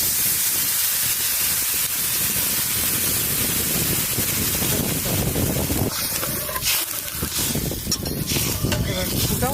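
Water added to a pan of frying fish and taro stems sets off loud, continuous sizzling and crackling right up close, with clatter of stirring near the end.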